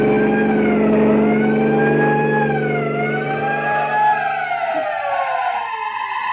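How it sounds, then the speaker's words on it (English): A siren wails with rising and falling pitch over a low engine drone, loud and continuous, then slides downward as it trails off. "Sound your siren"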